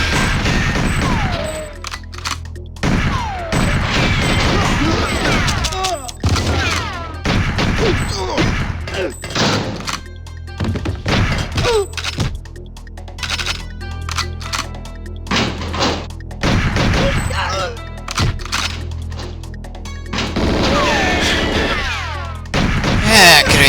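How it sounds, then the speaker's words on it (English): Unsilenced gunfire in the N64 game GoldenEye, repeated loud bursts of shots and impacts in irregular clusters, with game sounds in between across the whole stretch. "what determines when an enemy is going to react to the sound of an unsilenced gun around here?"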